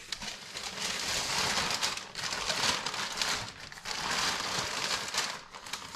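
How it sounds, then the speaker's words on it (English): A supermarket reusable plastic bag crinkles and rustles as burger bun dough is placed inside, producing dense bursts of crackling with short pauses, close and fairly loud, with no talk. "each of these into a plastic bag"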